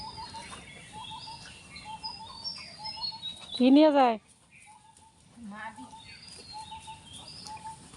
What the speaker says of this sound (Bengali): গাছে গাছে যে পাখিরা শব্দ করছে সেটা কি শুনতে পাচ্ছেন আপনারা?